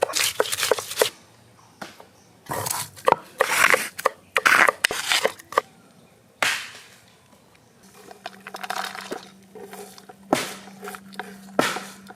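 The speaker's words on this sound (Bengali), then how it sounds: "লঙ্কা কুচিয়ে নেব। কাঁচা লঙ্কা" Green chilies being chopped with a knife in a Bengali village kitchen, a run of sharp, close cutting taps in irregular bursts with brief pauses between them and no talk.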